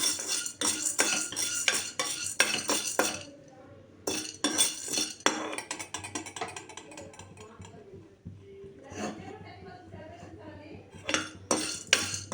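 A spoon scrapes and clinks against a pan as urad dal and chana dal are stirred and fried on a stove, with clustered rattling strokes and quieter gaps, close by.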